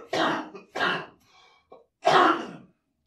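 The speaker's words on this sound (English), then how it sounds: "I got a headache from that cough" Three harsh coughs burst out close up, the first two in quick succession and a louder third after a short pause, with faint throat noise between them and no talk.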